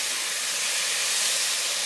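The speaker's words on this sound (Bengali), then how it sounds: "এতে আমি সামান্য অল্প তেলে আমি ভাজবো" Beans fry in a little oil over a low gas flame, making a steady, even hiss that carries on close by with no break.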